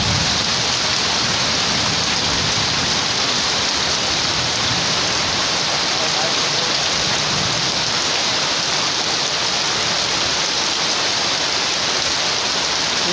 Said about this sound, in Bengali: তো ঘন ঘন বলেই দিচ্ছে দক্ষিণবঙ্গে এবার বিরাট ভারী বৃষ্টি